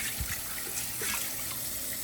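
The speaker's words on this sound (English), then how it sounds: "I'm just washing the peas now" Steady stream of tap water running into a sink while peas are rinsed, a continuous close hiss with faint splashing and no talk.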